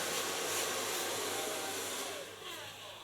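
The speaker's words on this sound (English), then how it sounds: "So far blow drying a classic bob." A hair dryer blows continuously at close range while styling a classic bob haircut, a steady airy roar with a slight dip near the end.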